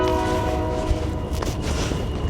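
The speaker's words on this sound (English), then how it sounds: "Train." A train passes along a trail crossing, a loud, steady rumble of rail cars with a sustained horn tone layered over the top, close and continuous throughout, with no talking.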